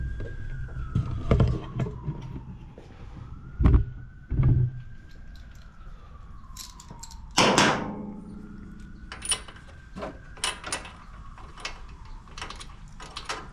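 A siren wails faintly in the distance, its tone rising and falling slowly behind loud nearby clanks and ratcheting knocks from work on a Kawasaki-powered Emark Quest zero-turn mower.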